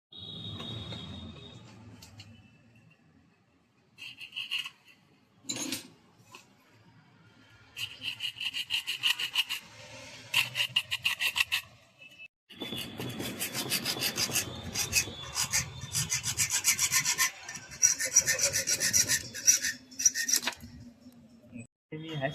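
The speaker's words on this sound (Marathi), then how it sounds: "आता आपल्याला ही कट करायची आहे." A metal strip for a Yamaha FZS V3 motorcycle top rack is cut by hand with rough, rasping strokes in irregular bursts and pauses, close and fairly quiet.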